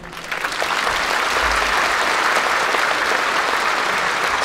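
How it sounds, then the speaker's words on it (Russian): Sustained applause from a concert hall audience at the 85th anniversary performance of the Loktev Ensemble, a steady, dense clatter of many hands that swells in over the first half second and holds loud throughout. "Ваши аплодисменты."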